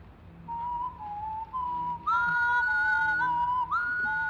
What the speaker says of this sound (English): that's when the whistling begins